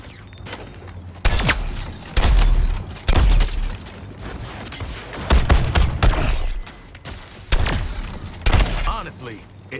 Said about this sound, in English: Firing explosives!